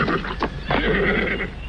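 A horse neighs as a cavalry troop halts near a monument, one close, shrill whinny with faint hoof movement beneath it.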